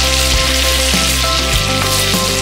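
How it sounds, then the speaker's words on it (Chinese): Sliced pork belly frying slowly in a pan until golden, producing a loud, dense, continuous sizzle with faint stirring bumps. "用慢火炒至金黄"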